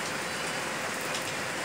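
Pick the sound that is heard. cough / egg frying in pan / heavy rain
heavy rain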